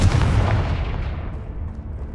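A fiery Confringo spell explosion in Hogwarts Legacy, one loud, deep booming blast at the start that rumbles and fades away over about two seconds.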